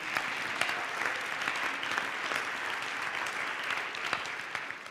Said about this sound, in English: Give them a round of applause for implementing